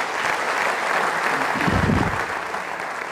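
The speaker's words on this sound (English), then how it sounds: "Shall we give a big round of applause?" Audience applause at a book launch event, a steady wash of clapping from a crowd that holds throughout the whole stretch, swelling slightly toward the middle before easing off.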